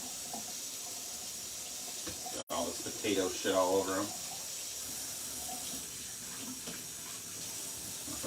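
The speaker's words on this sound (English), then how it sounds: "Wash my hands real quick." Water runs from a tap into a sink during hand washing after handling potatoes, a steady hiss throughout with a brief cut near the start. Someone speaks over it partway through.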